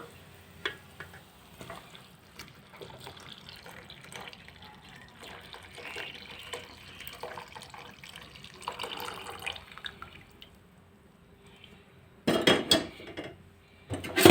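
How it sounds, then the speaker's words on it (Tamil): Coconut milk pours steadily into a pot of tamarind water for rasam, with soft splashing in a quiet kitchen, ending with a few clinks of utensils against metal. "இப்போ தேங்காய் பால் விடலாம்"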